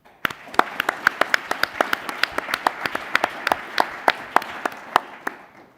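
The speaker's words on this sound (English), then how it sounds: "I'd like to give one more round of applause to all the speakers today" Applause from a seated audience at a scientific forum session, honoring the session speakers: a steady patter of many hands with several sharp, close individual claps standing out, running about six seconds before easing off.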